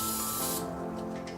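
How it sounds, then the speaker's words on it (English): Carb cleaner blasting from an aerosol can onto the brake and suspension parts of a 2004-2008 Nissan Murano, a loud close hiss that holds steady and then cuts off partway, leaving a quieter tail. "I'll spray this down with carb cleaner as well"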